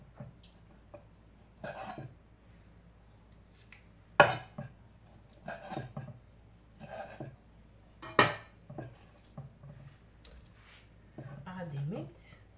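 Meat being chopped on a board in a home kitchen while an Igbo-style African dish is prepared, heard as scattered sharp knife thuds and dish and utensil clatter, with a few louder chops and a voice talking now and then.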